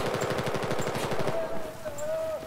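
Rapid automatic gunfire from Battlefield 4 rattles in a fast, steady burst before cutting off, followed by quieter game ambience with a faint tone.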